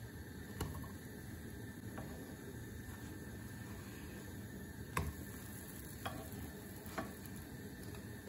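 Raisin and sesame pancakes frying in a pan give a steady, quiet sizzle, broken by a few soft clicks and taps of a spatula as they are turned.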